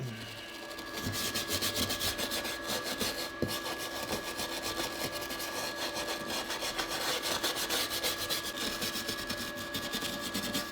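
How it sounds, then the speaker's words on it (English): A brush scrubs fuzz out of the grooves of a CNC-carved wooden sign in fast, steady back-and-forth strokes, a close, continuous rasping sound with no voices. "use the brush. And it's a lot easier than trying to get in there with sandpaper."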